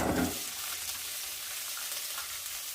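Garlic and onion frying in oil in a kadai make a continuous close sizzle, with a brief louder burst at the start as they hit the hot pan.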